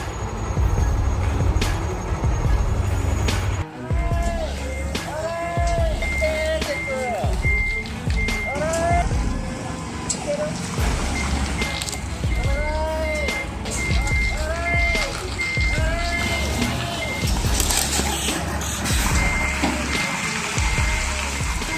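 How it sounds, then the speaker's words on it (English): A heavy truck pulling a 98-foot trailer backs up, its reversing alarm repeating in evenly spaced beeps amid engine rumble and street noise, with someone talking over it throughout. "98-foot trailer backing up like ballet, down tight streets."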